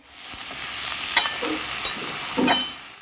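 Ridge gourd, shola and other vegetables are stir-fried with a fish head in a pan for a mixed winter vegetable curry. There is a steady close sizzle, with a few sharp scrapes and clinks as the mixture gets stirred, and no talking.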